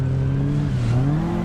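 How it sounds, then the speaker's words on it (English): Toyota Corolla rally car at a rally sprint, its carburetor induction and exhaust droning loud and close in a steady, rising-and-falling engine note. "Induction noise from the carburetors, exhaust noise."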